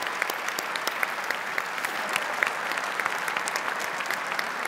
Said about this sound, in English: please, a final round of applause for our suppliers